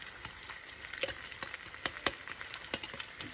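Eggs frying in a pan over low heat, a close, gentle sizzle dotted with quick light crackles and pops at an irregular pace, no speech.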